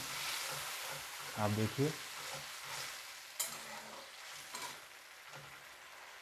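Onion and tomato masala frying in a pan for a halwai-style aloo gobhi matar sabzi, with water just poured in: a low, steady sizzle with scraping stir strokes and a few louder clatters, while a person talks briefly.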